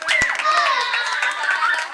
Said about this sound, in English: Let's give Adam a big round of applause!